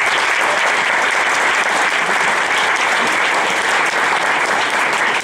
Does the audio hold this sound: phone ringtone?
no